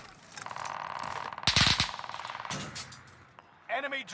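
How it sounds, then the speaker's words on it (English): Gunfire in the video game Warzone: a quick burst of rapid automatic shots rings out nearby amid a buzzing tone, then fades, and a voice cuts in at the end. "Oh, I'm getting shot from top prison."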